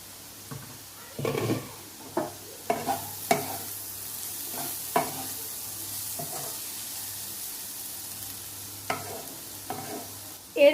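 Egg chow mein noodles frying in a pan while being stirred, a low steady sizzle broken by a dozen or so sharp scraping stirs at irregular intervals, close and moderately loud with no talking.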